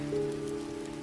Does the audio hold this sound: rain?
yes